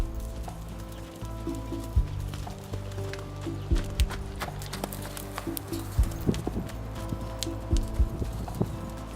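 Hooves clip-clop irregularly on the ground as a horse moves around nearby, with soft music playing underneath.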